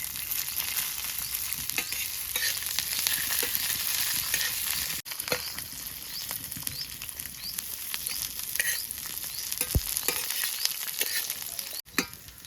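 Chopped onion and garlic fry in hot oil with cumin, producing a continuous close, crackling sizzle with small spits and pops throughout and a couple of brief dips as the pan is stirred.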